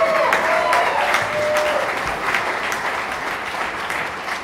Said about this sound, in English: You don't got to clap that much.